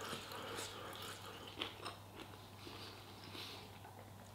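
Someone chews spicy chicken bites up close, with soft irregular crunching and mouth sounds, faint over a low steady hum and no talking.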